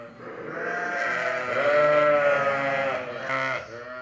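Sheep and newborn lambs bleat continuously in a crowded fold, several overlapping voices forming a loud, steady chorus of wavering cries without pause.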